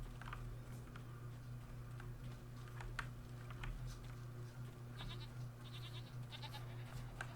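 Goats bleat faintly in the distance in the Jade Empire video game, scattered short cries over a steady low ambient hum and soft ticking game sounds, with no voices.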